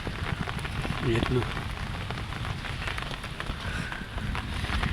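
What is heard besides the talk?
hailstones falling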